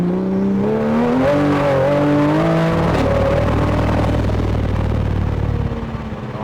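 A Toyota Supra GR fitted with a hybrid turbo conversion, a nine-second quarter-mile car, accelerates hard toward 150 km/h, its engine note climbing through several gear changes in a loud, close, continuous roar with no talk.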